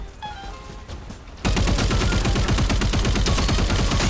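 Rapid automatic gunfire bursts out in the shooter game Time Takers, loud and sustained after a quieter opening with faint tones, dense rattling shots continuing to the end.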